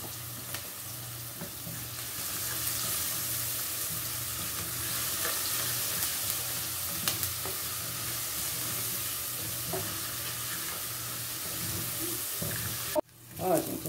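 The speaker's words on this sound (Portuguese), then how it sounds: "a cebola e o alho já tá bem douradinho" Chopped onion and garlic sizzle in a pan, a steady hissing fry with occasional stirring scrapes, continuing throughout and ending in a brief clatter.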